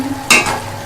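A spoon scrapes through fish curry seasoned with red chili powder in a pan, one brief close stir over a soft sizzle.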